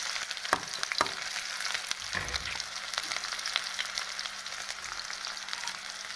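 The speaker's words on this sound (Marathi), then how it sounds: "तेल मस्त गरम झालेलं आहे आता मी टाकून घेते कांदा हिरवी मिरची आणि लसण मस्त टाकून घेतलं" Onion, green chili and garlic hit hot oil and fry with a bright, crackling sizzle, punctuated early by a few sharp clinks and a burst of spattering.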